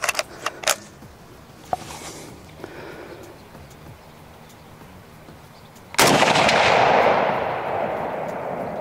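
A Browning BAR MK3 DBM semi-automatic rifle firing: a few sharp cracks early on, then one loud close report at about six seconds with a long fading echo.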